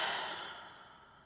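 A single slow exhale during a yoga session, a soft, close breathy sigh that fades out gradually.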